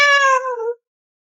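A cat in a living room lets out one clear, drawn-out meow lasting under a second, loud and close, followed by silence.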